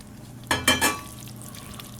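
Shredded chicken dropped into a pan of palm heart filling, giving a short burst of three quick wet thumps and sizzles close by, then a low steady simmer alone.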